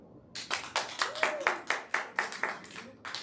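Audience at an improv comedy show claps in a short burst of applause, the slaps forming a regular rhythm that rises and fades, close and fairly loud.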